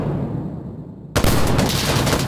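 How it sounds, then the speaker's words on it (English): A .50 cal rifle in the shooter Insurgency Sandstorm during close-quarters combat, fired as a single sudden loud blast that breaks a low ambient hum and trails into a sustained roar. "I missed that first shot"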